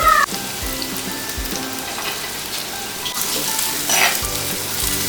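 Chopped ginger and garlic sizzle steadily in hot oil in a pan for a Kerala-style fish curry with kudampuli, a close, continuous frying hiss with a few stirring scrapes and no talk.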